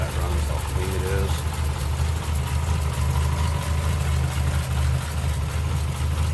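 A 1937 Lincoln Zephyr Coupe's L-head V12 engine idles smoothly and steadily at close range, a continuous low rumble with a faint voice briefly audible over it.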